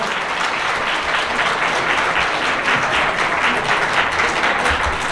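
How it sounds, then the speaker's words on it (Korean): Wedding guests in a banquet hall applaud as the ceremony opens, a full, even roll of clapping from many hands sustained throughout with no talk over it. "여러분 큰 박수 부탁드리겠습니다"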